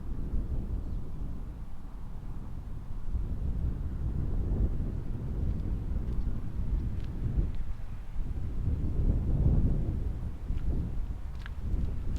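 Wind gusting in the Colorado Rockies, low buffeting rumble that swells and eases in waves, fairly faint and with no voices.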